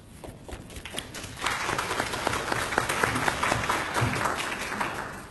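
Audience applause at a health forum in Dubbo, Western NSW, building from a few scattered claps into steady, dense clapping from a fairly large crowd that holds for several seconds.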